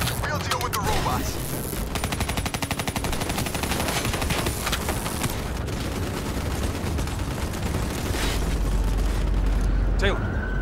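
Sustained automatic gunfire in a Call of Duty battle against a robot army, rapid continuous bursts of machine-gun fire layered with booms, dense and loud throughout, with voices shouting over it.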